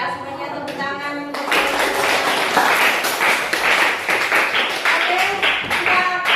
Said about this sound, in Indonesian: Semuanya tepuk tangan.